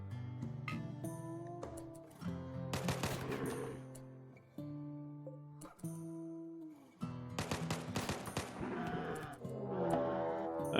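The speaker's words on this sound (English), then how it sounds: "do a good old session of shooting the buffalo" Clusters of rapid gunshots ring out in Rimworld as colonists hunt buffalo, several separate volleys spread across the stretch over a sustained musical background.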